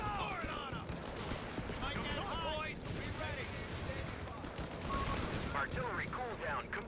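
Artillery and gunfire rumble through a Company of Heroes 3 battle, with dense bursts of shots and booming blasts running steadily under someone talking throughout.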